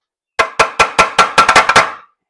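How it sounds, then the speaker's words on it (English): A ball peen hammer's rounded end taps on the valve cover of a small block Chevy engine: about nine sharp, close metallic knocks, evenly spaced at first and then quickening near the end, with no talking. "I'm going to use the rounded ball end of this ball peen hammer instead of the flat side."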